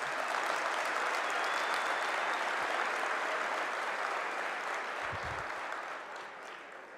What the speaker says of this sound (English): You, give yourselves a round of applause.